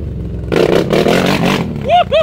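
A CFMOTO X10 ATV with a custom exhaust revs up close in a loud sustained burst, then drops to idle with a few short blips, with people talking nearby.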